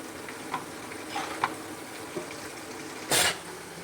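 Pakoras deep-frying in hot oil give a steady low sizzle with scattered pops and crackles, then a brief louder burst of hiss near the end, with no talking.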